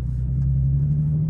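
Nissan 370Z NISMO engine idling and revving lightly with a steady low rumble, a close, continuous drone without talk.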